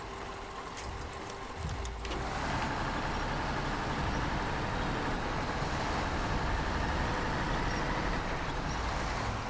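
A GMC truck driving in a video game, hauling medium logs in Michigan, its engine a steady, loud rumbling drone that holds without a break after a brief quieter start.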